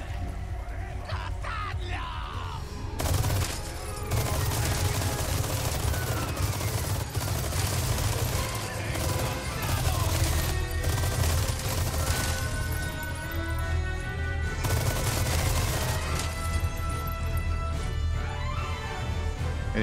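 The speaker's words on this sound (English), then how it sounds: "Gonna be new enemies, hopefully, because then I can actually use a turret" Turret machine gun firing in Resident Evil 4 Remake, long sustained bursts of loud automatic gunfire with brief pauses, mixed with crashes and enemy yelling throughout.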